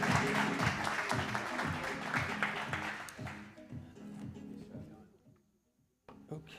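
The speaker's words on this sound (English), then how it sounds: "Big round of" An audience at a New York tech meetup claps together, loud and dense at first, then thins out and fades to near silence.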